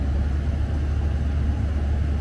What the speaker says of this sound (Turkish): Biraz gaza basıyoruz.